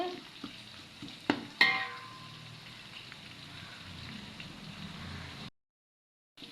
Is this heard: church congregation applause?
no